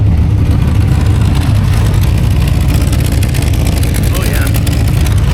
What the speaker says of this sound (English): Let's see if maybe you can hear the exhaust leaks